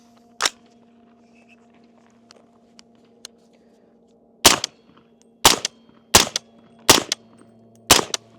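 A suppressed .300 Blackout rifle fires five supersonic rounds, one sharp crack, a pause, then four evenly spaced cracks about a second apart, loud and close, with no talking.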